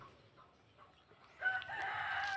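Chickens with hens and chicks in a netted range on a small farm, mostly quiet at first, then a burst of clucking and crowing calls rising and continuing at moderate distance.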